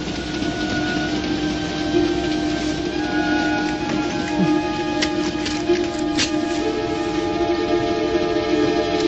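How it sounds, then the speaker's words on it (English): A movie train rushes toward the camera through a tunnel, a steady loud rumble with sustained whistle-like tones and metallic squeals layered over it, constant and close throughout. "the light at the end of the tunnel is really the train in the movie coming towards us"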